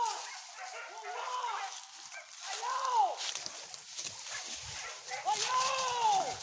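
Hunting dogs bay and yelp during a wild boar hunt in the Jambi forest, rising, wavering howls and barks at middle distance, with people shouting and talking among the brush.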